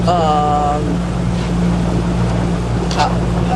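A motorboat near Scrag Island, Maine, runs its engine as the throttle is pushed toward 3,500 RPM. A loud, close engine roar blends with heavy wind buffeting on the microphone and water noise, and stays steady throughout.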